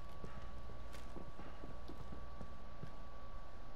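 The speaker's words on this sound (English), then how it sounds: "I hear footsteps." Footsteps in a video game tap out a quick, irregular run of hard clip-clop-like steps at moderate distance over a steady background hum, with no talking.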